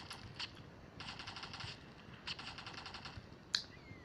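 Bursts of enemy gunfire in the Stickman Hero 2 video game, with quick rapid-fire rattles in short volleys and one sharper crack near the end, moderately quiet over a low background hum, with no talking.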